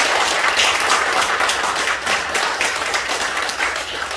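A church congregation claps together to celebrate a baptism at an Easter Sunday service, a dense, steady wash of applause that stays loud and even from start to finish with no voices over it.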